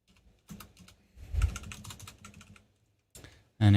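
Rapid clicking of keys on a computer keyboard, typed in quick bursts with short pauses between them, fairly close and moderately loud, ending in a sharper louder clack.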